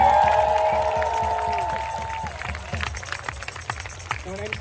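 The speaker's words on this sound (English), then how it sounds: "So another round of applause, please, for them." Crowd at Trans Pride London claps and cheers outdoors, rising into scattered applause and shouts after a sustained tone fades, with busy crowd noise and voices mixed in.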